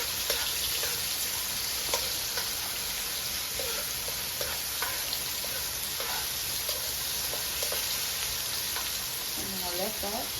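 Onions sizzle and fry steadily in a pan for a fish curry, a constant hissing crackle with occasional stirring clicks and a voice briefly at the end.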